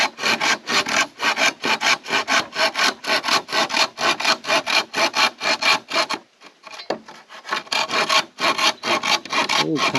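Wood being sawn by hand out in the forest, a loud, fast rasping stroke repeated in steady rhythm close by, with one brief pause partway through before the strokes resume.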